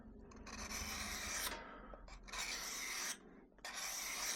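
A knife blade is drawn across Work Sharp grit plates in three long, close rasping strokes separated by brief pauses, soft but distinct.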